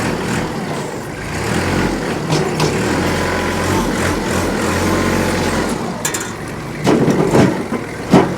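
A 2013 Kubota L3800 compact diesel tractor with a 38 HP engine drives in low range. The nearby engine drones steadily with a low rumble, then rises into louder surges and knocks near the end.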